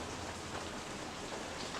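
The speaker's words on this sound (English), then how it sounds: "The weather outside is raining. You may be able to hear that on the camera." Steady, faint rain falls outdoors near a beehive in an Alaska rainforest, a soft continuous hiss of drops with no voices.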